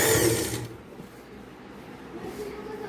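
A sewing machine stitches lace onto the sleeve of a girl's tight shirt, opening with a brief loud burst of machine running that drops to a quieter mechanical hum.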